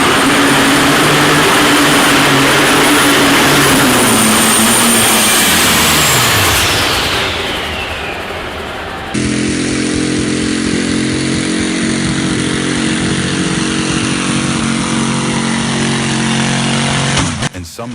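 Pulling tractor engine roaring at a tractor pull, a loud sustained high-revving drone that sweeps downward in pitch, then steady roaring engine tones until an abrupt cut.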